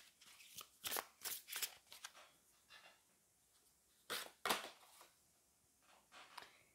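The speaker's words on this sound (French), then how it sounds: "je prends une dernière carte de tarot" Tarot cards shuffle and slide in quick, soft bursts, a handful of crisp papery flicks close up and quiet, separated by brief pauses with no talking.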